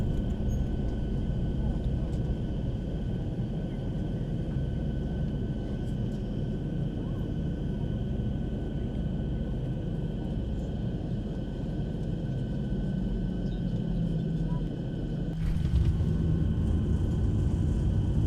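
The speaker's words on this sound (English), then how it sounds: "It's really hard for me just to watch a landing in one view." Steady airliner engine drone and rushing wind during a landing in the X-Plane 11 flight simulator, continuous and fairly loud, with a brief thump and rise in rumble near the end suggesting touchdown.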